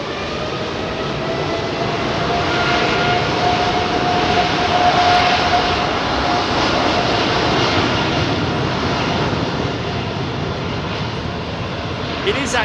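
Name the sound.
jet airliner engines spooling up at Heathrow Airport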